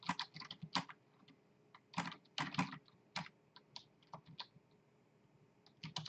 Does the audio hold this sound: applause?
no